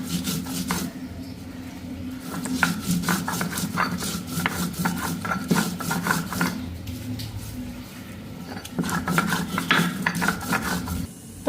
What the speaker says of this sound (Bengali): তো এখন এইদিকে মশলাটা করে নিই। তো পাটার মতোই মশলাটা করুম।